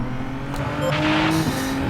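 A race car spinning out in Gran Turismo 7, with a loud, close engine roar whose pitch wavers as the tires scrub and squeal briefly, and no talk.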